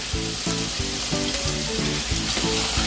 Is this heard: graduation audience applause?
no